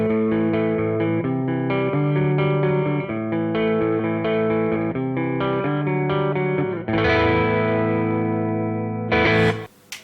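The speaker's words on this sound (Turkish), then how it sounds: "Vibro Edge tonun ismi." Electric guitar played through a NUX Trident processor on its Vibro Edge tone, a run of distorted, chorused notes and chords with sustained ringing, loud and close, then a final strum, with no talk.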